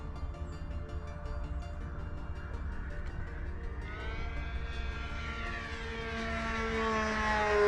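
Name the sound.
V-1200 model airplane engine at half throttle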